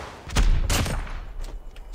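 Gunfire in Call of Duty Mobile: a couple of sharp shots close together, followed by a rattling tail of fainter reports, loud and near.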